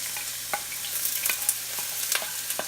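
White onion sizzles gently in olive oil for a beef and bean chili, a soft continuous frying hiss broken by a few sharp clicks of a spoon against the pan, close by with no talk.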